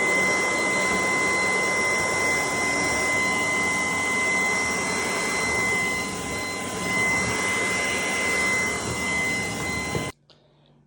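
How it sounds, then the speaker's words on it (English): A vacuum cleaner runs loudly and steadily with a high whine and broad whooshing roar, then switches off abruptly near the end. "what I have truly found with this vacuum cleaner"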